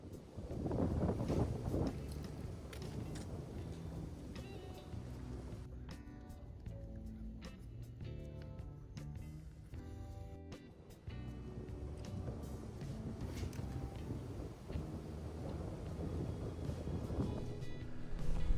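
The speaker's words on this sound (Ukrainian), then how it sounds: "вітер дує несамовито" Strong wind roars and buffets close to the microphone for a long stretch, with gusts rising and easing and a rumbling low undertone.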